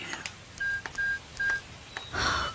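Four short electronic keypad tones, evenly spaced, each a clean beep with brief pauses between, over quiet room noise; no talking.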